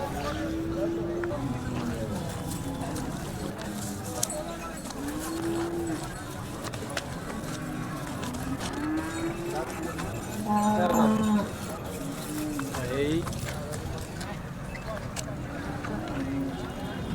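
Cattle lowing now and then amid a noisy market crowd, with steady voices talking throughout and one louder, longer moo near the middle.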